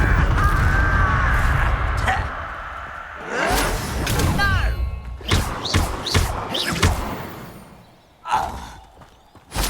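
A Confringo blasting curse strikes in the wizarding video game Hogwarts Legacy, giving a few sharp whooshing thuds and bursts amid busy duel effects, with spoken voices in the mix.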